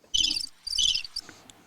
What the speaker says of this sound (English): No, you just had crickets.